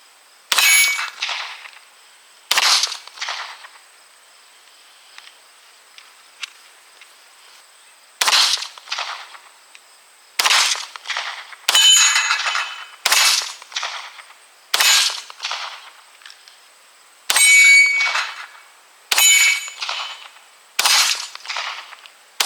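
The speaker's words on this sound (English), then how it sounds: "Ricochet." Sharp metallic clangs and pings from pistol rounds hitting and ricocheting off a target, fired from a Hi-Point YC9 9mm pistol, arriving in irregular single and paired bursts with short silences between.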